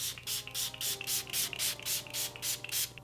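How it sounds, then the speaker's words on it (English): Regular makeup setting spray misted onto a face in a series of rapid, evenly spaced hissing bursts, close and fairly loud, about eleven pumps in three seconds with no talking. "I'm just going to use like just a regular spray here."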